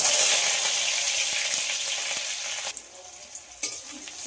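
Two large chopped onions and a chopped chili hit hot white oil in a pan, setting off a loud, bright sizzle that gradually softens, with a couple of utensil knocks near the end.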